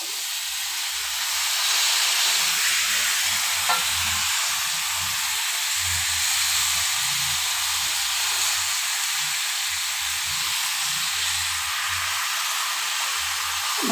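Cut potatoes frying in a pan of spiced masala, a steady close sizzling hiss that continues throughout with no talking.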